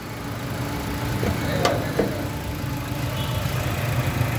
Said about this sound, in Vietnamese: Máy đang hoạt động đây, nổ rất là êm ái luôn.